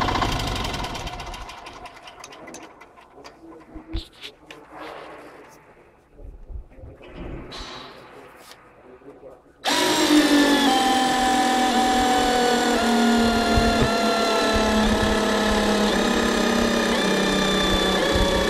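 A cordless drill with a weak battery whirs in short, labored bursts that struggle and stall, then a loud, steady motor drone takes over and runs continuously.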